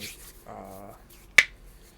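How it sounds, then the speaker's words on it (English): A single sharp hand clap for audio sync rings out once, briefly, after a short stretch of low murmuring. "We're going to do a clap sync."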